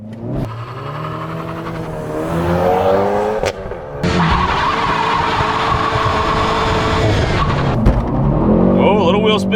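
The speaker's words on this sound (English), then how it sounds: "Oh, a little wheel spin. A lot of wheel spin." A Hyundai Veloster N launches for a 0 to 60 run with heavy wheel spin, the engine revving high while the tires squeal and scrub, followed by a shift and continued hard acceleration, loud and close.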